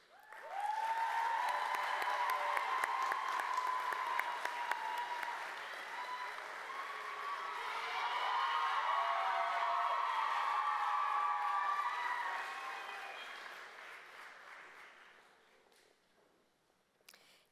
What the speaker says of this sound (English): Let's give these individuals a round of applause as they make their way down to the stage.